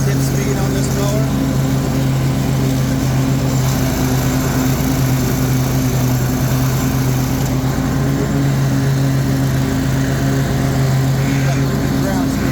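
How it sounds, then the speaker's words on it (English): A 48-inch Toro Titan ZX4800 zero-turn riding lawn mower runs with its blades engaged, making a loud, steady engine drone and whirring blade hum, close up and unbroken throughout. "Turn the blades on. Got a nice high blade tip speed on this mower."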